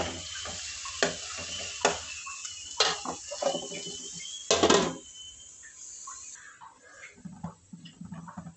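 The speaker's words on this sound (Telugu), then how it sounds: "ఇది కలబెడుతూ ఉండాలి, లేకపోతే అడుగు పట్టేస్తుంది." Grated raw mango is stirred in a pan, with intermittent close scraping strokes, a louder sizzling burst midway, then softer, sparser stirring.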